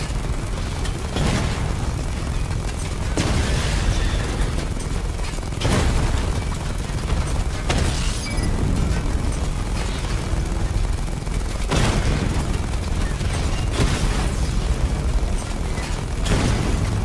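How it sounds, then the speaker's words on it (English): Missile barrage explosions in Batman Arkham Knight, loud booming blasts arriving in repeated bursts every few seconds over a dense, continuous roar of gunfire and debris. "Charge up missile barrage to level 2 and destroy 4 active targets to complete diagnostic test"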